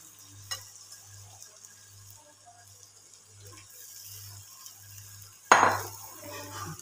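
Finely chopped carrots dropped into roasted masala in a pan, a faint stir and clink under a low steady hum, then a sudden louder hissing sizzle near the end as the vegetables hit the hot pan.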